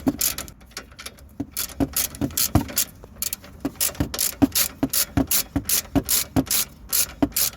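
A hand ratchet clicks in rapid, regular bursts while undoing a 15mm nut on a Vauxhall Corsa anti-roll bar drop link, close and crisp with quiet pauses between strokes.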